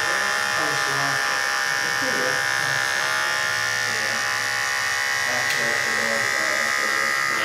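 Electric hair clippers buzz steadily and loudly while cutting a skin fade in a classic barbershop, with a barber talking over the continuous hum.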